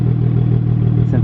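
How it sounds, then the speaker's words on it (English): A BMW 335i with a JB4 tune and a VRSF catless downpipe idles steadily, its exhaust giving a low, even burble close by. "might as well go over the exhaust since the car is on"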